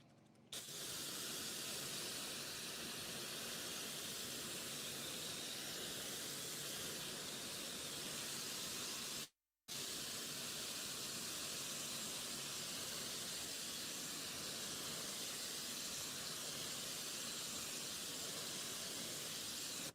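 Steady, loud water spray rinsing ceramic-coated alloy wheels, a continuous broadband hiss that runs unbroken apart from one brief cut midway.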